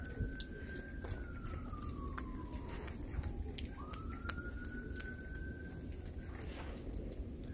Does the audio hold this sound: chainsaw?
no